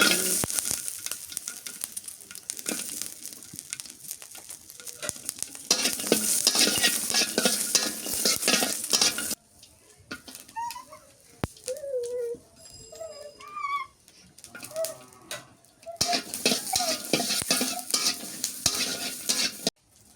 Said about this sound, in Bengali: মরিচটা বাইচা নিলাম